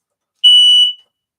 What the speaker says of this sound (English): That's smoke alarm. I think it needs a battery.